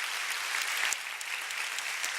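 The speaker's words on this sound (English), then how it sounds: "And that applause for you all." A staff audience at a staff day event applauds, a dense, steady clatter of many hands clapping at moderate volume throughout, with no speech over it.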